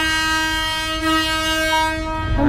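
A train at a Thai railway station sounds its horn in one loud, steady, sustained blast close by, with station rumble underneath as the tone shifts slightly near the end.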